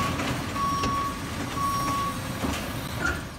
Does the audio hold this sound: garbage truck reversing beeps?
yes